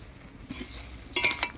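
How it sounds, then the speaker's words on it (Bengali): Brief metal spoon clatter in a pan while stirring vegetables with salt, turmeric and slit green chillies, a soft scrape and then a sharper close burst of clinks, no talk. "দিয়ে ভালো করে নাড়াচাড়া করে নিব"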